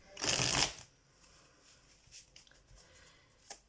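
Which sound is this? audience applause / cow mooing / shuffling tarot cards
shuffling tarot cards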